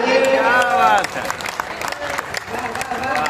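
Audience applause breaks out loudly at a Hindi comic poetry gathering for Holi, a dense wash of clapping mixed with cheering and crowd voices that carries on steadily throughout.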